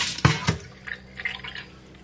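Salted dried fish being rinsed in a bowl of clean water, with two sharp splashes near the start followed by softer intermittent trickles and drips, close by and fairly quiet.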